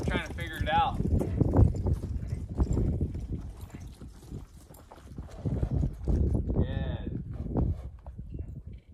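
Horse hooves clip-clopping on a first ride during an early training session, a steady nearby hoof rhythm running under a trainer's ongoing talk.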